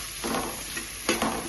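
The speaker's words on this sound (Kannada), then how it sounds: "ಈರುಳ್ಳಿ ಕೂಡ ಹಾಗೇನೆ ಸ್ವಲ್ಪ ಫ್ರೈ ಆಗಬೇಕು." Chopped onion and green chilli sizzle in hot oil as they are stirred, a steady close frying hiss with two brief scraping surges from the spoon, no voices.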